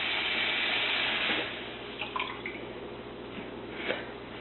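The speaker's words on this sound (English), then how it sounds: "Just fill up the pot to about where you just feel like." Tap water runs into a cooking pot, a steady hissing rush that fades after a second or so into softer trickling and a few light splashes and drips, close and fairly quiet with no talk.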